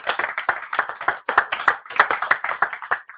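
A church congregation clapping hands in a dense, fast, steady rhythm for the full stretch, loud and close, with no talk over it.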